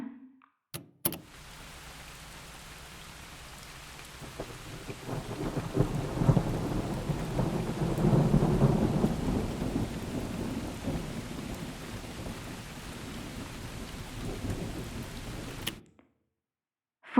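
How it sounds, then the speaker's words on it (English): Steady rain pours throughout while low thunder rumbles and builds in the middle, then fades back to rainfall. "Rain."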